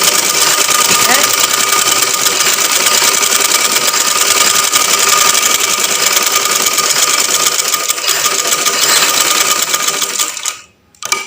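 Sewing machine stitching a band onto a neckline, running in a steady, continuous mechanical whir for most of the clip before stopping abruptly near the end; a voice talks over it.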